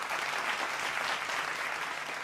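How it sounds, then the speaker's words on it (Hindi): Studio audience of a Hindi TV debate show giving loud, sustained applause to welcome a spiritual guest, dense even clapping throughout with no talk. "जोरदार तालियों से एक बार फिर अभिनंदन"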